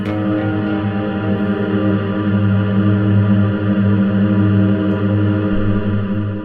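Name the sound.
guitar reverb trailing infinitely from Klowra Limbo reverb pedal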